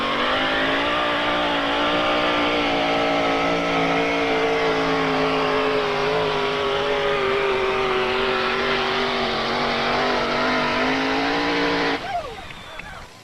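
The 640 cubic inch Keith Black Hemi engine of a 1992 Dodge pulling truck, rated 1,800 horsepower, revs loudly and steadily at high pitch for about twelve seconds, then cuts off abruptly, leaving a brief rumble.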